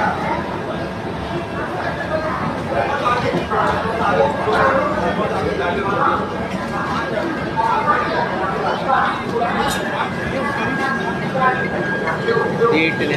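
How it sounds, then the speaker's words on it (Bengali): Garib Rath train standing at platform 4 of Chitpur station, its steady rumble and hum mixed with dense crowd chatter and platform noise, continuous and fairly loud throughout. "এই ট্রেন গরিব রথ ফ্রম 4 নম্বর প্ল্যাটফর্ম চিতপুর"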